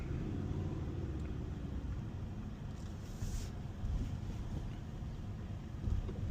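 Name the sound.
Toyota Tacoma pickup truck driving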